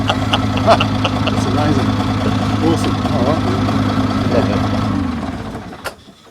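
A Commer TS3 engine idles steadily and loudly up close with a low even throb, while someone speaks briefly over it before the engine cuts off near the end.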